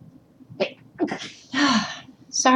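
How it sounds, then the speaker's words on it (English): A single loud sneeze, preceded by a couple of short sharp inhales and ending in an abrupt burst, close to the listener. "Hang on, I'm going to sneeze."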